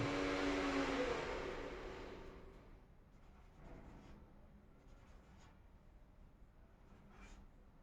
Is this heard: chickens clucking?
no